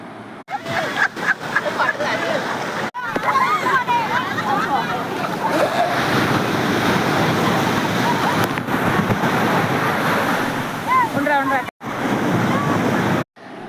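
Steady wash of sea waves runs almost continuously, with wind buffeting the microphone and people chattering over it.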